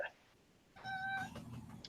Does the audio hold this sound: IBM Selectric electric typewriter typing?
no